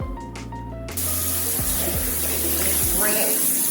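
Tap water switching on with a sudden loud rush to rinse collard greens, continuing as a steady close spray with a few light knocks and handling noises under it.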